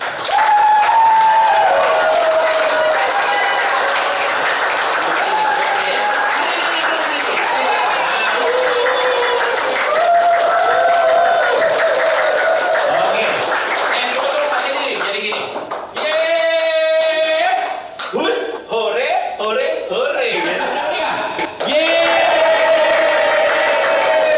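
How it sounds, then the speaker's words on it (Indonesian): An audience at a palm oil token training session breaks into lively applause, with a steady wash of clapping and crowd noise that persists while voices talk and call out over it throughout. "tepuk tangan yang meriah"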